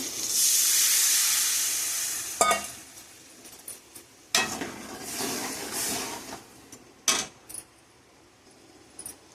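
Tamarind solution poured into a simmering potato kara kuzhambu brings a loud hissing sizzle that fades, followed by several short clinks and scrapes of a utensil against the pan.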